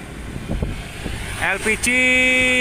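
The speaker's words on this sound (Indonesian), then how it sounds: "Truk LPG ya, tabung gas." An LPG gas-cylinder truck passes on the Pantura highway at night, its engine rumble swelling as it goes by, followed by a steady whining tone, with someone talking over the start.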